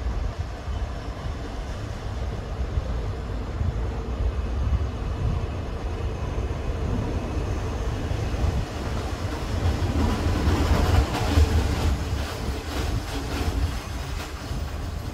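Passenger train 416 arrives at Ban Han station in Thailand: a steady, fairly loud rumble of rolling wagons with faint rail clatter that swells slightly near the end, and no voices.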